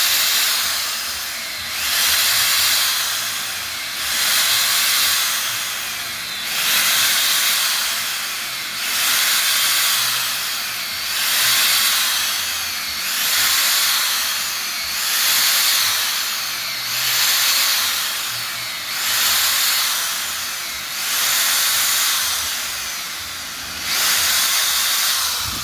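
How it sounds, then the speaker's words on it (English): A power drill boring holes in an air hockey table surface, heard as a steady hissing whine that swells and fades about ten times in a regular rhythm, fairly loud and close with no talking. "Make sure that you drill straight, right? You don't want to drill crooked, because then you're going to get oblong holes."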